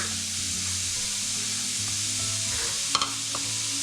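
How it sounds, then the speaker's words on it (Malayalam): Onion sautéing in a pan with green chilli, ginger and garlic for a Kerala tea-time snack, producing a continuous sizzle with stirring scrapes and a sharp metallic clink near the end. "ഇനി ഇതിലേക്ക് പച്ചമുളക്, ഇഞ്ചി, വെളുത്തുള്ളി ചേർത്ത് കൊടുക്കാം."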